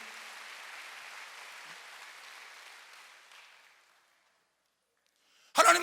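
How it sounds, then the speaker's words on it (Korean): A church congregation bursts into loud applause at a Wednesday worship service, clapping suddenly and densely for a moment after a quiet stretch that follows a fading, hissy bed of room sound. "박수 하세요."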